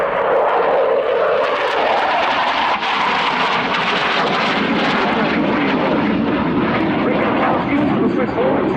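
A Swiss Air Force F/A-18 Hornet flies at an airshow, a loud roaring jet rumble that holds steady throughout while an announcer talks over it.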